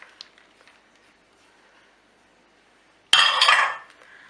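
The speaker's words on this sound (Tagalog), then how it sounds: "isinaling ko yung minced pork natin sa bowl. At pagsamasamahin lang natin lahat ng ingredients." Minced pork with grated water chestnut and carrots is mixed in a bowl. After near silence, a sudden loud clatter of a utensil against the bowl lasts about half a second.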